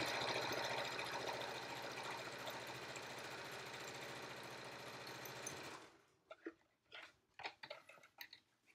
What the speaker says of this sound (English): and you just sew it, no reverse stitching.